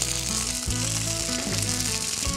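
Curry leaves and fennel seeds crackle and sizzle in hot oil, a loud, dense frying hiss that stays continuous and close throughout, with no voices over it.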